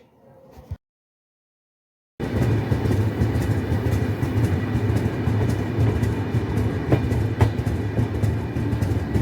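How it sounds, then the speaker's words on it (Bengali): The Ruposhi Bangla Express rolls into Kashiani Junction: after a brief cut to silence, a steady, loud rumble and rattle of the train's wagons runs continuously to the end. "এই মুহূর্তে আমাদের ট্রেন পৌঁছে গেছে তার যাত্রাবিরতির দ্বিতীয় স্টপেজ কাশিয়ানি জংশন"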